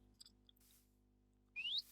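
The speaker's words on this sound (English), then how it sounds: "Oh, are you flirting with me? You're whistling." A game character in a Minecraft-style world gives a short rising whistle, a single bright chirp after near silence with a few faint soft ticks before it.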